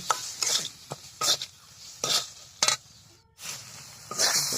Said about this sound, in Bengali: আমাদের মশলাটা প্রায় ভাজা শেষ হয়ে গেছে।